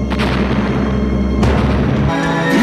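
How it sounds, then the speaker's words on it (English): Cartoon barrel bombs explode in a loud animated scene, a continuous booming roar with a fresh blast at about 1.4 seconds and a shift near 2 seconds. "So the Kongs hear the explosions and DK has war flashbacks."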